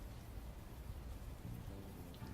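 Steady rain from the video game Unavowed pours in a dense, even hiss with a low rumbling wash beneath, continuous throughout with no voices.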